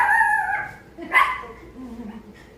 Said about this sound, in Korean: 강아지 동동이도 출석해서 예배를 나오는 거 많이 놀랐습니다